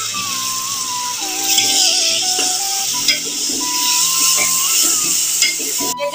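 Tomatoes and green chillies sizzle in a pot of browned onions for a desi chicken and drumstick curry, with a continuous frying hiss under repeated stirring scrapes and occasional clinks of the spoon against the pot.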